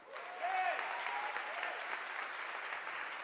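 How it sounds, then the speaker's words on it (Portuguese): A church congregation claps and cheers together during a sermon, a steady, fairly distant wash of applause that swells near the start with a voice calling out over it, then holds evenly. "dê um aplauso ao Senhor"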